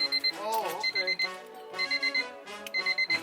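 Repeated electronic beeping chirps in quick bursts from a turbocharged Honda Civic's car alarm, with pauses between groups and a voice briefly under it.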